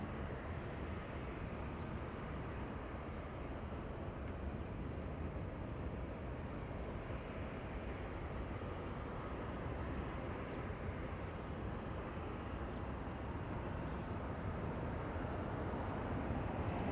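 A Delta airliner landing on runway 24 right at Los Angeles International Airport gives a steady broad roar of jet engines, distant and sustained with no break.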